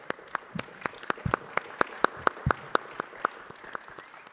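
Faint, steady clapping with evenly spaced claps, like a small group applauding politely at a distance.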